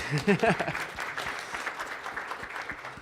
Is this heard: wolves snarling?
no